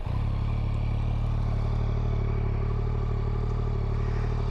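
A brand-new 2025 Yamaha MT-09 SP three-cylinder motorcycle with an aftermarket exhaust fires up and settles into a steady, loud, close-up idle with a deep, even rumble and a clattery mechanical edge.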